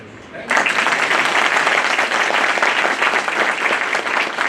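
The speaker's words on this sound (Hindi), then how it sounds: "ये ताली इनरोलमेंट की नहीं है, ये ताली हल्की है आपके इनरोलमेंट के हिसाब से।" Applause from the newly enrolled advocates at a Bar Council of Delhi enrolment meeting in a hall, starting abruptly as a dense, steady clapping that holds at full strength throughout with no pause.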